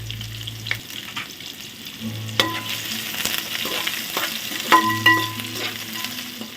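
Onions and green chillies frying in a pan, a soft continuous sizzle broken by intermittent stirring clinks and scrapes, with a low hum coming and going in the background.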